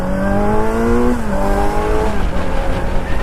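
A Kawasaki motorcycle, just refuelled, accelerates hard on the road. Its engine note climbs loudly, drops at a gear change, then rises again close to the rider.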